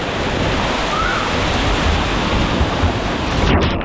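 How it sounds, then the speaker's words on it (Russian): Loud, continuous rush of splashing water at a water park fills the whole stretch, a dense broadband wash with no talk over it. "Все брызгается громко."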